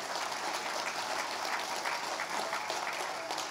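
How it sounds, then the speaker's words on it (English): Sustained applause from an awards-ceremony audience, steady and dense clapping that fills the room for several seconds without voices. "That deserves a huge round of applause."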